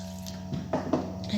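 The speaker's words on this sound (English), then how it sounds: "And we add a little bit of water" Water added to a cooking pot of Moroccan chicken with pickled lemon, olives and spices, giving a few brief, soft splashing drips over quiet kitchen background.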